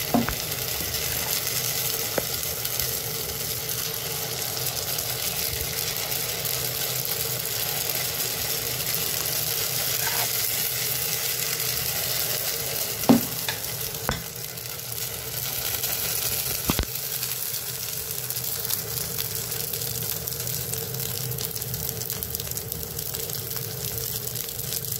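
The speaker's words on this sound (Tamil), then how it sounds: "இப்போ வந்து நம்ம பணியாரக்கல்லை ஊற்றலாம்." Millet paniyaram batter poured into a paniyaram pan sizzles steadily and evenly for a long stretch, with a few faint clicks and one sharp tap partway through.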